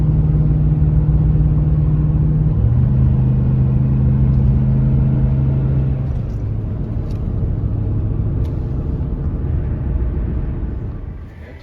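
A car travels along a road with a steady, loud engine rumble and tyre roar close by, easing slightly in level partway through; no one talks.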